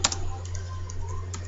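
Keystrokes on a computer keyboard while an SQL insert query is being typed, a few light clicks, close and fairly quiet over a steady low electrical hum.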